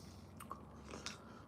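Unevenly cooked rice, with some bits still crunchy, is chewed close up, the soft mastication marked by a couple of faint crisp crunches.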